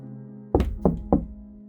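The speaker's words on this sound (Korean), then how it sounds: "창문을 두드리는 소리에 깨게 된 거야" Three quick, evenly spaced knocks rap on a window, crisp and close, over a low steady hum.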